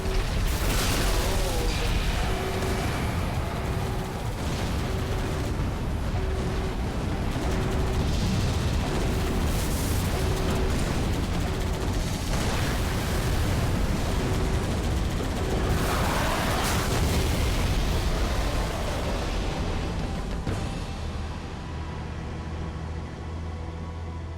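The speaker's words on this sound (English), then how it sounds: "I saw that explosion from orbit." An explosion in an animated series: a long, dense roar of blasts and rumbling debris, loud and continuous throughout, with scattered booming bursts and no speech.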